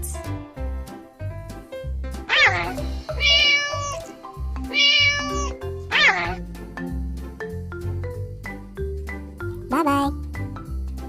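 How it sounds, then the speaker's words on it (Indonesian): Several distinct cat meows, high and drawn out, repeating over a looping bouncy children's music backing, close and clear. "Cat."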